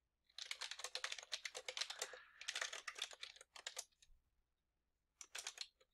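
Rapid typing of Java code on a computer keyboard, quick clustered keystrokes in bursts with a short pause before a final flurry, close and clear with no talking.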